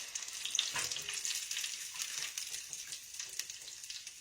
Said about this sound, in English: I had my grease too hot from frying that fish.